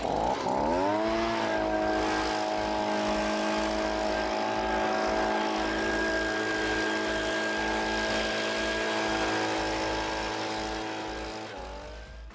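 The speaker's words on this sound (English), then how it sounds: "now we're going to blow down the surface, now that we've scraped everything back" A motorized blower clears debris from a historic flat roof in West Palm Beach, starting up with a rising whine and then holding a loud, steady engine drone with a high fan hiss before easing off at the end.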